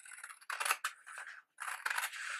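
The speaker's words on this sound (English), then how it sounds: "You're also going to cut up through the side dart" Sharp scissors cut through a paper sewing pattern at close range, making crisp snipping and crunching strokes in a few quick bursts with a short pause between them. No voices.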